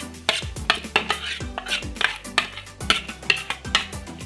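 Spoon or whisk clatters against a bowl while spices are mixed into samosa batter, a series of sharp, close metallic knocks and scrapes in an uneven rhythm, with no voice.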